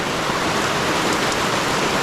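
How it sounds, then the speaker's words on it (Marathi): Dense, continuous unseasonal rain pours down in the Konkan region in a loud, even hiss with no breaks. "आता तर खूप मोठा पाऊस आला"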